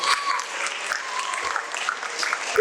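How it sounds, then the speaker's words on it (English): Crowd of teachers and school audience applauding at an island school event, a continuous wash of clapping at moderate level throughout. "Give yourselves all a big round of applause."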